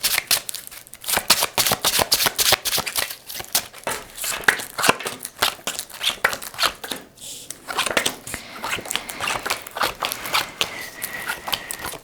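Tarot cards shuffled in rapid, crisp riffling bursts, close and fairly loud, with dense papery flicks broken by short pauses and a brief quiet gap near the middle.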